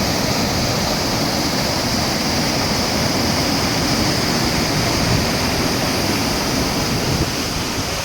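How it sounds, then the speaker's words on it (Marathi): Rushing water of a waterfall-fed river near Kondeshwar temple in Kamshet, a loud, steady, close roar that fills the whole clip with no pauses. "एवढा आवाज येतो पाण्याचा."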